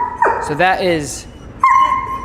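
A shepherd dog gives close, loud yelping barks and whines, with a longer whimpering tone near the end, while a person's voice briefly speaks under it.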